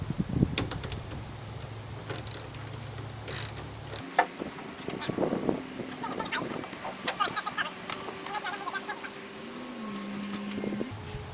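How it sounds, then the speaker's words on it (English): Ratcheting mechanical clicks and small metallic turns come from tightening a roll-up tonneau truck bed cover down to its tension plate on a 2016 Ram 1500 pickup, heard close up with a low hum underneath. "we're going to tighten down our cover to our tension plate"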